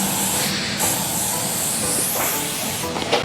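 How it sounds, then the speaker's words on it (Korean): Hairspray is sprayed onto a man's freshly cut and permed hair in a salon, a continuous close hissing aerosol burst filling most of the moment, with brief spray pulses and slight handling noise at the end. "그러면은 스프레이드좀 뿌려준다"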